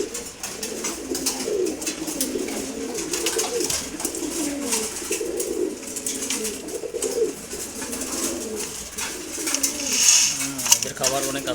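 Racer pigeons coo steadily in layered, throaty phrases close by, accompanied by scattered pecking taps and a brief metallic clatter toward the end.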